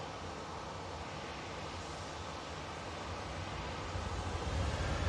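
A Ryanair airliner on its takeoff roll at Manchester Airport, a steady distant roar of jet engines that swells slowly and grows louder toward the end, heard alone without talk.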